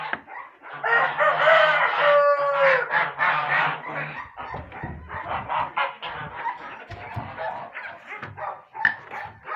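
Domestic chickens calling up close, with clucks and squawks mixed among loud honking geese in a farmyard flock, in overlapping bursts that rise and fall.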